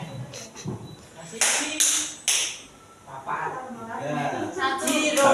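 Hand claps in a classroom guessing game about counting mosquitoes: a few sharp, separate claps spaced apart, with a voice talking around them.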